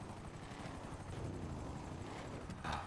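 Helicopter in the video game GTA Online, a faint, steady rotor whir with rhythmic blade pulses throughout and a brief brighter burst near the end, no talk.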